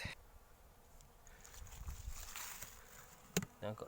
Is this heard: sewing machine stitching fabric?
no